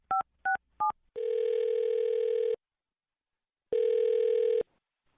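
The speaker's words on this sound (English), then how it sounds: "I'll dial this phone number right now and see if we can figure it out" Telephone keypad tones sound three times in quick succession, and then a steady ringback tone plays twice with a pause between, all clean and close with no talking.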